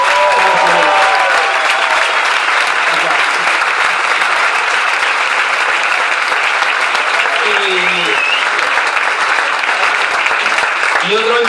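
Sustained, loud applause from a comedy club audience at a stand-up show, dense continuous clapping filling the whole stretch with a few voices and cheers mixed in.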